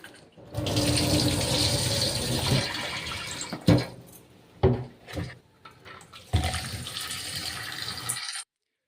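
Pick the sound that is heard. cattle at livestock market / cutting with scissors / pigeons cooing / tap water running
tap water running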